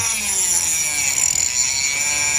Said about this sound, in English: So you turn your Dremel on 1, take your seed,